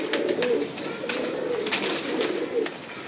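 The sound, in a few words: pigeon cooing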